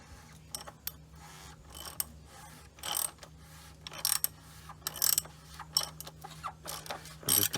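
A ratchet loosens the oil filter housing cap on a Mercedes GLK diesel: sparse, close clicking and clanking strokes over a low steady hum, growing busier toward the end.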